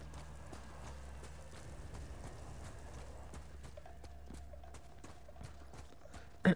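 Horse hooves clip-clop in the video game Ghost of Tsushima, a quiet, regular beat of light hoofstrikes over a low ambient game soundtrack, ending with a brief louder knock.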